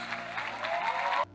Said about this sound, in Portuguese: E a igreja celebra com palmas.